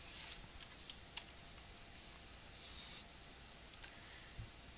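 Scattered keystrokes on a computer keyboard while an address is entered, a few soft clicks with one or two sharper taps, close but quiet, no talking.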